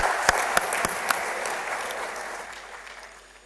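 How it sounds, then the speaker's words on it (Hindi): An audience claps in a large hall at a formal honouring ceremony, a few sharp individual claps standing out early before the applause gradually fades away. "एक बार ताली बजा करके हम उनका अभिनंदन करेंगे"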